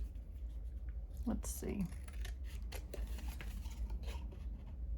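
Scissors snip through paper being cut out for a mini mixed-media junk journal, a few short crisp cuts close by, with someone talking quietly over them.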